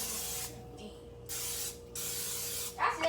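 Cooking spray hisses in three short bursts from an aerosol can onto a heated pan for waffles, separated by brief pauses, close by, followed by a faint sizzle or clatter at the end.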